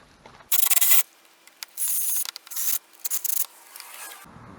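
Rust being scrubbed off the starter solenoid of an EZGO TXT golf cart, close harsh abrasive rubbing in several bursts of rapid strokes separated by short pauses.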